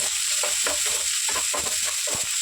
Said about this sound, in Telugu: ఒక ఉల్లిగడ్డ మొత్తం వేసుకున్నాము ఉల్లిగడ్డ ఫ్రై చేసుకున్నాము